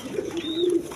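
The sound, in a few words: pigeon cooing, pair of grizzle pigeons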